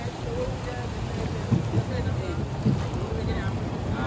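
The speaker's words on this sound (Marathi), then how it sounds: "मोठी लाट आली की मोठी येते." Big sea waves on a Konkan beach, a continuous rushing wash with two louder surges breaking partway through, heavy wind buffeting the microphone.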